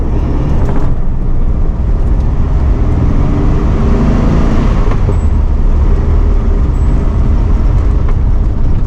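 A 1964 Volkswagen Beetle with a 1600cc engine is heard from inside while driving, giving a loud, steady engine drone and road rumble. No one talks.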